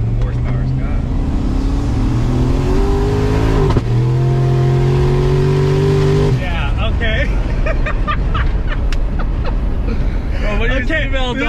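Mercury Marauder stock car engine accelerating from inside the cabin, rising harmonic whine climbing through gears then dropping off, loud and steady, with people talking over it.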